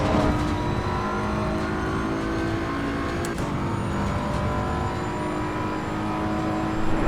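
A BMW M4 in Assetto Corsa Evo at night on the Nürburgring Nordschleife, its engine droning loud and steady under hard throttle, holding a sustained roar throughout with no talk.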